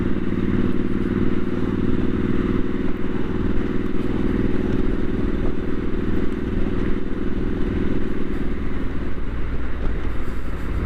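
Triumph Street Scrambler 900 motorcycle on the move, a steady loud engine drone with low rumble and road and wind noise running continuously throughout, no talk.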